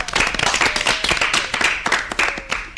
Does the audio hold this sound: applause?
yes